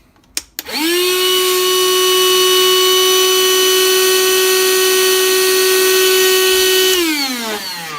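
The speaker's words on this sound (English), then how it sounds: "I'm just using my little Ryobi inflator here on it" A small Ryobi inflator blowing air through a valve: a click, then a loud, steady motorized whine that holds for about six seconds before winding down.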